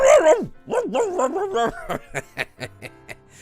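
A voice mimics a dog's bark with a string of yelping, woofing calls, loud and close, varied in pitch and rhythm, alone without other talk.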